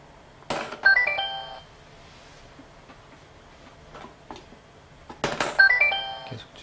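A homemade Arduino coin piggy bank plays a short bright Mario-style jingle as a coin drops in, sounding twice with clicks between, a rising chiming tone sequence heard clearly with no talk.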